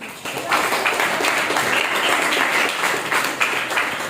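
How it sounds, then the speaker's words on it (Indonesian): Applause from a classroom of students after a presentation in an Islamic religious education lesson, a dense, steady patter of many hands clapping together for several seconds, close and fairly loud. "Kalau tidak ada, kita kasih tepuk tangan dulu."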